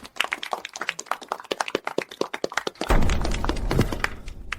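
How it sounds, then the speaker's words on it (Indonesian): Scattered sharp individual claps and taps give way, near the three-second mark, to a fuller, dense burst of applause from a gathered group, loud and close, with no talking over it. "Mari kita beri dia tepuk tangan."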